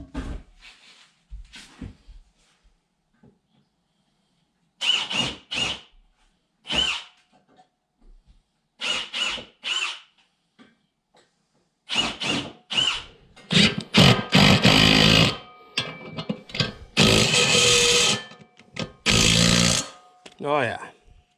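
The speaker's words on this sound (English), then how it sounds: "I'm just going to drill a pilot hole just so I can get those things started easier." Power drill boring pilot holes for lug screws during construction of an elevated wooden deer blind, in several bursts of varying length separated by pauses, growing louder and longer toward the end, with some talk early on.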